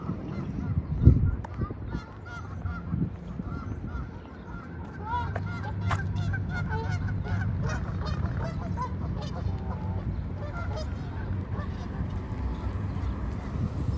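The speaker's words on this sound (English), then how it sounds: "There are two geese fighting or something." Two geese squabble at sunset outside a Brampton shopping centre, with loud honks and bursts of squawking over steady outdoor background noise and distant traffic.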